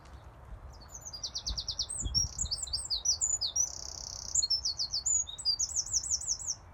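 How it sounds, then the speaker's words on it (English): A wren sings outdoors during a countryside walk with a dog, a sustained run of fast, high, trilling phrases and rattling notes. A few soft low thuds sound in the background. "There is a Jenny Wren singing somewhere."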